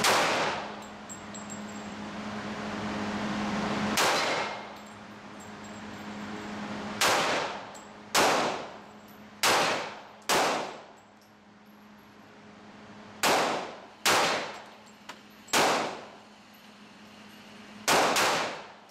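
An HK USP .45 pistol fires at a shooting range: about ten loud, sharp single reports spaced unevenly over the span, some in quick pairs, each with a short ringing decay, no talk.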